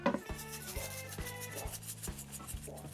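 Killer Hogs Texas brisket rub is worked by hand onto a chuck roast, giving soft, quiet rubbing and patting strokes repeated in an even rhythm, close by.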